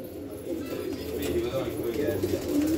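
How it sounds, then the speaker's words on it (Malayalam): Surma pigeons in a loft coo in low, repeated rolling phrases nearby, with a human voice murmuring underneath. "ഇത് എൻ്റെ മെയിൻ സെറ്റാണ് പ്രാവ് കേട്ടോ."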